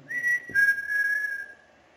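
A person whistles in the hallway of a disused mental hospital: a clear, steady tone in two close phrases, the second held longer, and no other sounds around it.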